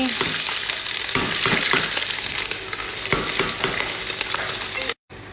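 Homemade pork fat and homemade sausage sizzle and spatter steadily in a pan, a dense continuous frying hiss with occasional stirring scrapes, briefly cutting out near the end.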